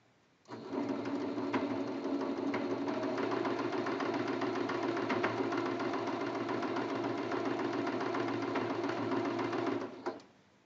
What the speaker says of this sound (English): I'm going to sew this seam